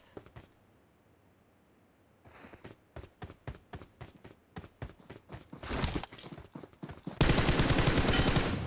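MG3 machine gun fired in a shooter video game, starting with rapid separate shots, then growing louder into dense sustained bursts of automatic fire close by.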